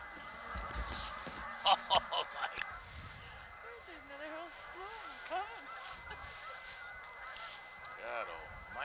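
A large flock of several thousand geese at Horicon Marsh honks steadily in the distance, a dense chorus of overlapping calls with a few louder honks standing out nearby.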